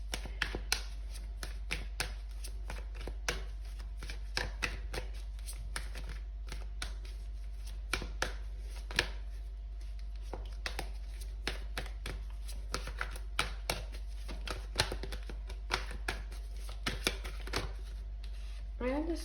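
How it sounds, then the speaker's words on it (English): Tarot cards shuffled and drawn during a reading, a long run of quiet soft clicks and snaps at an uneven pace over a low steady hum. "I'm gonna pull some more cards."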